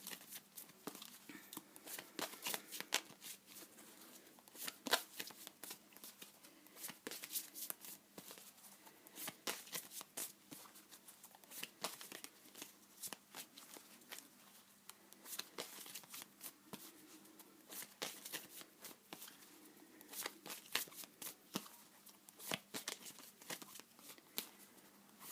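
Tarot cards are shuffled close up for a long stretch, a continuous flurry of crisp riffling and sliding card flicks with irregular rhythm, quiet and steady throughout.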